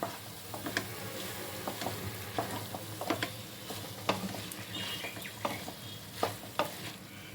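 Egg and cauliflower curry being stirred in a pan, with a spoon scraping and knocking against the metal in an uneven rhythm over a constant frying sizzle, close and fairly clear, no voices.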